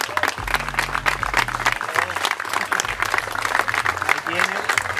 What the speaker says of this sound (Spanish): Un aplauso para el ganador